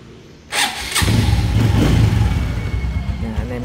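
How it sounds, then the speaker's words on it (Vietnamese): Honda Future 2 motorcycle, rebuilt engine, cranks and fires at close range, then settles into a steady, loud, smooth running idle that holds for a few seconds. "em nghe tiếng máy nổ nè, không khác gì tiếng máy zin nha"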